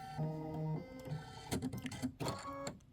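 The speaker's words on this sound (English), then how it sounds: "It's going to do that running stitch down the center of my satin stitch, and I'm doing it in linen." An embroidery machine sews a running stitch in linen thread down the center of a satin stitch, a close, steady mechanical whirring with shifting tones that pauses briefly and starts again.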